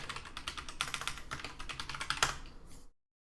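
Computer keyboard typing, a fast irregular run of close clicking keystrokes that ends abruptly in silence, with no talking.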